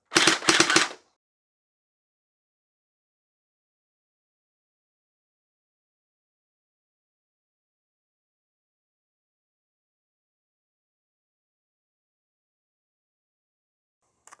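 A Splatrball SRB400 gel blaster fires one short rattling burst in fire mode, a loud close sequence of rapid clicks lasting about a second, followed by long silence.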